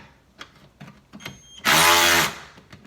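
A cheap cordless ratchet from Amazon loosens a 10 mm bolt on a car's headlight mount, giving one loud, steady mechanical whir of under a second between quieter clicks and handling sounds.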